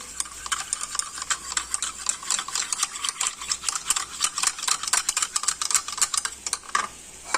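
A spoon stirs cornflour into milk in a bowl, making quick, repeated clinks and scrapes. The taps come in a busy, uneven rhythm and are close and fairly loud, with no talking.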